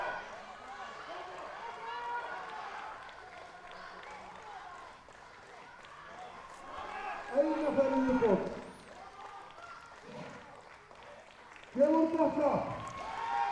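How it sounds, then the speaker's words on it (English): A crowd at Iceland's Strongest Man 2022 cheers a favourite strongman competitor through his yoke carry. Loud cheering rises in two surges, with commentary running underneath. "Páll Logason, a crowd favorite, obviously, as you can hear"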